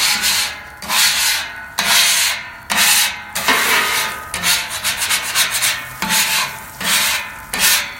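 A bench scraper drags across an oiled griddle surface in repeated rhythmic strokes, each a loud gritty scrape with short pauses between, close up and without speech.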